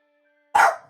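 A single sharp dog bark bursts out after a quiet pause, close and loud, then fades quickly.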